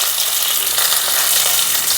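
Curry leaves and mustard seeds crackle and sizzle steadily in hot oil, a dense close spatter with no voices, cooked for a Kerala-style cowpea thoran.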